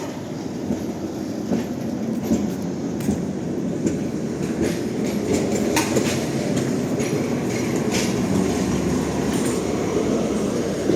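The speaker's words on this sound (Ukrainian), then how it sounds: "Трамвайчик іде." A tram rumbles past on rails at night in Lviv, Ukraine, a steady rolling roar with faint clicks and a light metallic squeal, continuous for several seconds.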